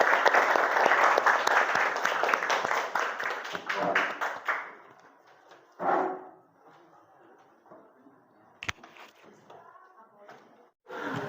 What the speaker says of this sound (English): Give applause for group 1.